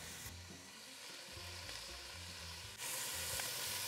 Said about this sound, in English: So let's give that a stir.